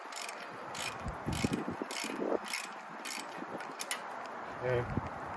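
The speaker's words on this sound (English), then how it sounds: "I'm using my smaller ratchet, so I don't have to worry about turning the wheel." A small ratchet turns a bolt on a Ram 2500 front wheel hub, giving close, rapid clicking in several short runs with pauses between them, and faint voice sounds in the background.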